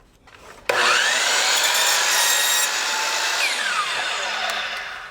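Hand saw cutting through a wooden garden bed board, a single sustained close rasping stroke-run of about four seconds with no talk.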